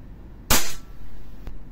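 A single sharp, loud report from a silver WE 1911A airsoft pistol during a chronograph velocity test, followed by a short burst of fading noise and a faint click about a second later.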